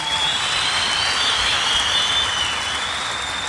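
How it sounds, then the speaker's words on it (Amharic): A crowd keeps up steady, dense applause at a gathering, an even wash of clapping at constant loudness with a thin high whine running through it and no talking. "አጨብጭቡላት።"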